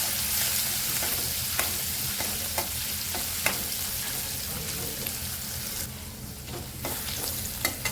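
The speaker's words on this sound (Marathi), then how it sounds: "खिसून घेतलेले आलं आणि मिरची तेलावरती चांगलं परतून घ्यायचं" Grated ginger and green chilli sauté in hot oil, giving a continuous close sizzle broken by repeated sharp scraping taps of a spoon stirring the pan.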